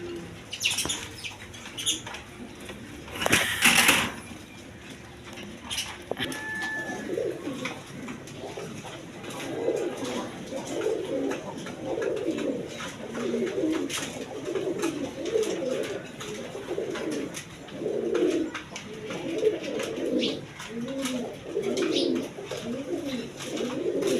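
Pet pigeons at a seller's coop coo repeatedly in rhythmic, throaty bursts close by, with occasional chirps and a brief wing flutter early on.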